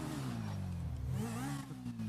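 A motorbike engine revs for a trial start, a close, steady drone whose pitch dips and then rises again as the throttle changes, with no voices over it.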